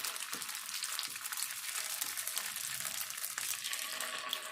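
Patties of mashed potato and flattened rice fry in a hot pan, giving a steady, close sizzle with crackling spatter and a faint scrape or two, no talking.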